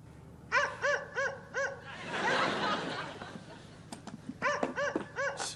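A dog howls outdoors on a cold night, giving short bursts of wavering cries in groups of four, separated by a stretch of rustling noise. The howls sound moderately distant.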